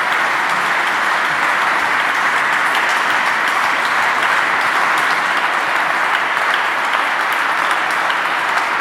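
Steady, loud applause from a conference audience at a Hamburg media event fills the whole stretch, an even roar of many people clapping with no voices on top.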